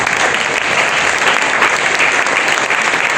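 A church congregation applauding, a dense sustained wash of many hands clapping at once that stays steady and loud from start to finish.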